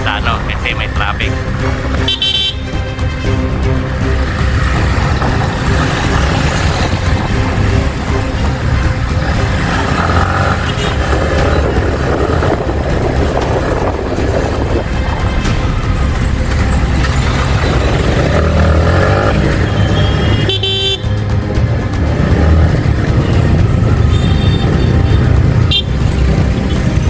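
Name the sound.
road traffic with cars and horns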